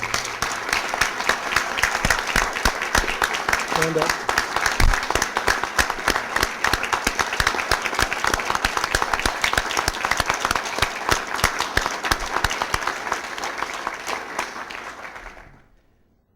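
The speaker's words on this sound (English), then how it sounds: "please join me in giving Johnny Linton a round of applause" Outdoor audience at a Lowcountry South Carolina concert event applauding at length, dense steady clapping that carries on for about fifteen seconds before fading out, with a brief spoken call from the crowd early on.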